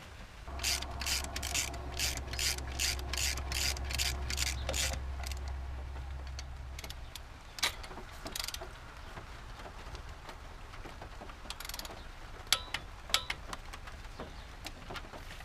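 A hand ratchet snugging bolts on a Chevy S10 4.3 engine: a rapid even run of clicks over a low hum, then scattered sharper clicks and knocks close by.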